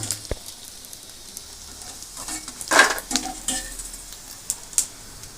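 Rice flour and onion vathal fry in hot oil with a soft, steady sizzle and bubbling. Spoon scrapes and stirring clinks land near the middle and end.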